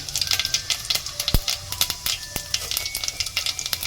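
Fennel seeds sizzle in hot oil in a pan for tomato rice, giving a steady crackling fizz with sharp pops and a few stirring clicks, close and with no talking.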